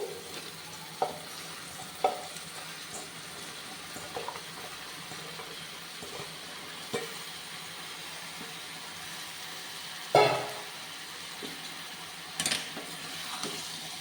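Washed broad beans frying in a pan for a Karnataka-style palya, a faint steady sizzle with a few scattered clinks and scrapes of stirring, one louder knock near the end, no talk.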